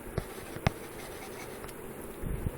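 A pen scratches across paper close by, a soft continuous scribble with a couple of sharper taps as strokes begin.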